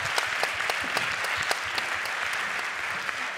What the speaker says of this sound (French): Ouais, on peut l'applaudir.